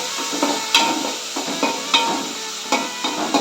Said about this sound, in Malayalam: നമ്മളിതിലേക്ക് വെളുത്തുള്ളിയും ചെറുള്ളിയും കറിവേപ്പിലയും ചതച്ചിട്ട് കൊടുക്കുകയാണ്. നന്നായി ഇളക്കുക.